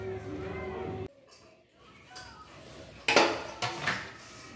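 A cake machine is set down with metal clatter; a steady hum gives way to several sharp clinks and knocks, close and moderately loud, with no talk.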